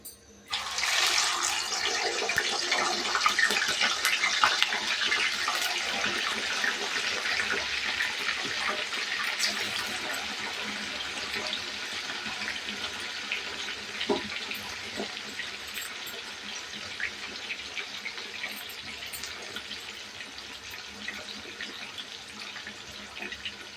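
Raw banana slices drop into hot oil and fry with a steady, dense hiss that swells in the first seconds and then holds evenly, close and moderately loud, with occasional small knocks from the pan.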